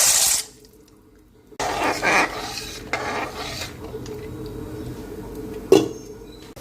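Pasta tipped into a pot of water, a short splash and clatter followed by a few bursts of watery rushing and a sharp knock near the end, with quiet stretches between.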